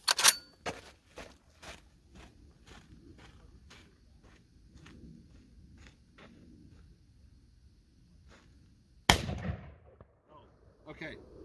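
Black Aces Tactical FD12 bullpup 12 gauge shotgun firing buckshot: a few sharp loud blasts at the start, then quieter mechanical clicks and handling noise, and one more loud report later, with a voice speaking briefly.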